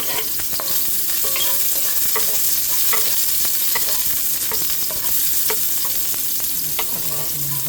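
Onions sautéing in a pan for chicken bistek, a steady loud sizzle and fry with repeated scraping and clinking of a utensil stirring throughout, no voices.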